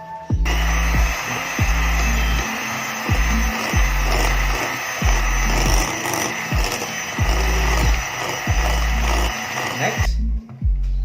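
An electric mixer whirs loudly and close, beating butter into dissolved sugar for toffee pudding, its motor pulsing in a regular rhythm of short surges before cutting off near the end.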